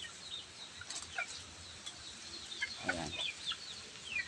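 Chickens cluck in short, scattered calls while being fed behind a rural house, moderately close over a faint outdoor background, with a brief spoken word.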